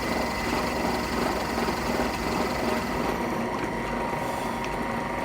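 A drill press runs while drilling a tobacco pipe, a continuous motor whir with a buzzing, chattering texture, steady and near, with no talking.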